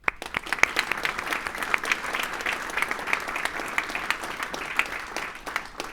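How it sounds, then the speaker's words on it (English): A room of more than a hundred customers, partners and employees applauds together at a product launch event, a dense, steady wash of many hands clapping for six seconds with a few sharper claps standing out. "A big round of applause for all of you for making here."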